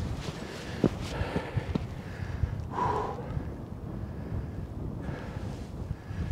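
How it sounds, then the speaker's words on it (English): Breezy wind on a Scottish mountain hike buffets the microphone in steady low rumbles with a few gusty swells, with faint footsteps underneath. "Wee bit breezy again, which is good."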